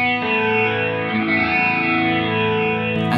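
Sustained electric guitar chord through a Boss Katana amp's rotary speaker effect, swirling with a steady wavering shimmer throughout, with a fresh strum near the end.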